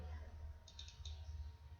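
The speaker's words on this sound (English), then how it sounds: "Yes, this is your double clicking." A computer mouse button clicks in quick pairs, faint and close, over a low steady room hum.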